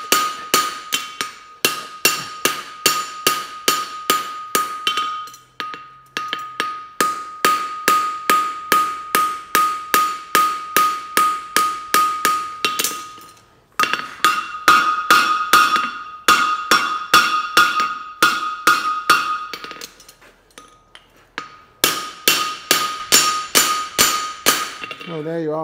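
Hammer blows forge-welding a straight steel bar, bursts of steady, rhythmic metallic strikes in close-up with brief pauses between heats, loud and ringing.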